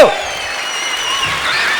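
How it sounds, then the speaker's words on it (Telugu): Audience applause at the All India Reddy Organisations Conference, a brief burst of clapping from a crowd that swells slightly and continues steadily. "మీ చప్పట్లు ఎక్కడికి వెళ్ళాలి ఢిల్లీ దాకా చేరాలి"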